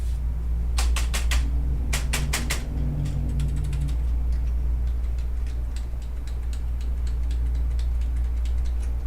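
Computer keyboard keys pressed in quick clattering bursts, then sparser single taps, close up over a steady low machine hum from a PC under repair.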